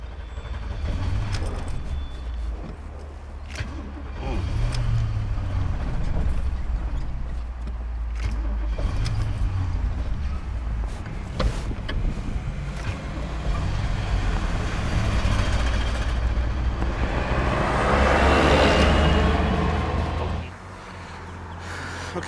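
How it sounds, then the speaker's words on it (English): Cars rumble past a broken-down vehicle stuck in traffic with vapor lock, engines and tyres swelling and fading one after another, loud and close, with a heavier vehicle surging through near the end. "A lot of cars trying to get by us."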